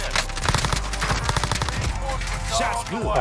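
Rapid bursts of automatic gunfire in Warzone on Rebirth Island, including a Kilo rifle, crackle loudly in quick rhythmic volleys, with a player's voice briefly heard.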